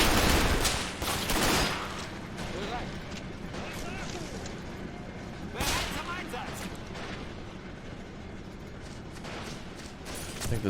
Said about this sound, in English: Alright, let's get on that machine gun